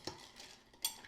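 A quick stir of winter sangria with ice in a pitcher gives two light, bright clinks about a second apart, quiet and close with nothing else audible.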